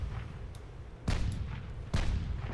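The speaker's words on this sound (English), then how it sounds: "And another torpedo." Torpedo hits on a warship in the naval battle game Ultimate Admiral Dreadnoughts land as two muffled booming explosions about a second apart, over a low rumbling sea background.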